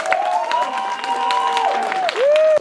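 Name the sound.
audience applause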